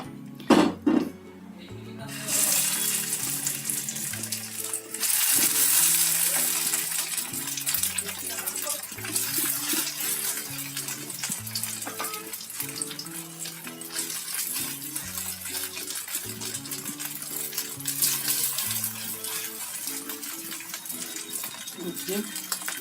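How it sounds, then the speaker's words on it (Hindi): Aloo tikki fry in a small amount of hot oil in a pan, a steady sizzling hiss running beneath background music, with a faint clink of cookware at the start. "अब हम इस टिक्की को तलेंगे। मैंने तेल गरम कर लिया है पैन में।"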